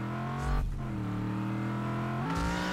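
A car engine in Just Cause 3 revs steadily at high pitch, holding a sustained tone with a brief dip and a rise near the end, loud and close.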